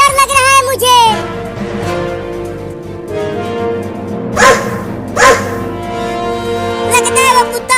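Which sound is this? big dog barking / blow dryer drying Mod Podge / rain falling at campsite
big dog barking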